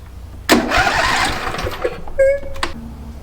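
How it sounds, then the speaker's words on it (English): John Deere L120 lawn tractor's starter is bumped once, giving a single loud, short cranking burst of about a second. A brief mechanical whine follows near the end, with no engine catching. "I'm just going to bump the starter once just to make sure it works."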